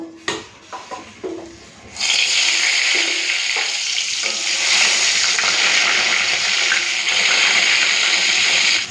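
Eggplant slices hit hot white oil and break into a loud, steady sizzle that holds on unbroken after a few quieter clatters at the start.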